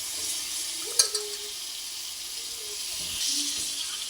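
Chicken sautéing in a thick spice gravy, a faint bubbling sizzle with an early utensil clink and light stirring.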